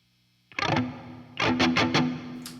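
An electric guitar through a Marshall amp sounds a distorted chord, then several quick strummed hits ring out after a short pause. The tone is moderately loud and close.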